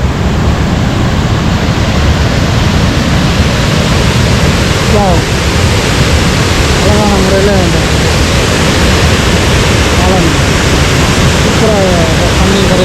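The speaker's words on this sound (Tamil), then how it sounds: "சூப்பராக தண்ணி வருது" Water gushes in a steady, loud roar through the four reopened spillway gates of Iranaimadu reservoir. The broad rushing noise stays constant throughout while people talk over it.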